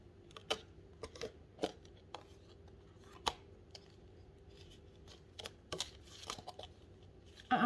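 Tarot cards being shuffled by hand in a quiet room, a few sparse soft snaps and riffles scattered over several seconds, close but faint.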